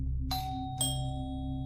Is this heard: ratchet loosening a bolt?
no